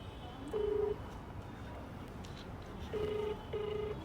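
Three even electronic ring tones of a phone call sound, one early and two close together later, over faint background noise.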